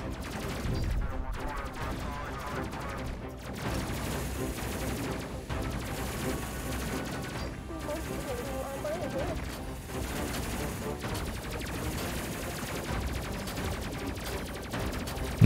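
Ship guns firing in the space game Space Crew, a dense continuous stream of rapid shots mixed with battle effects and a voice talking over it at moderate level.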